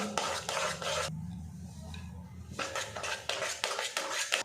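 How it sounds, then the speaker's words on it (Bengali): Semolina being stirred with palm fruit pulp into a dough in a bowl: close, scraping spoon strokes in two bursts with a quiet pause between them. "এইভাবে নাড়াচাড়া করে একটা ডো বানিয়ে নেব"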